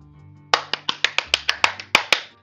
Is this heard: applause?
yes